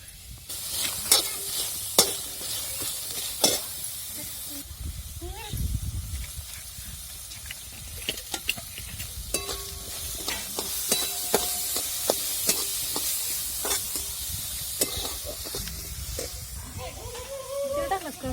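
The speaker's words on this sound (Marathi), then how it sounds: "आता आपली कढई पण चांगली तापलेली आणि कांदा लगेच परतून घेत नाही का" Chopped onions sauté in a hot kadhai (wok), giving a continuous sizzling hiss punctuated by sharp scrapes and clicks of stirring, with a voice speaking faintly at times.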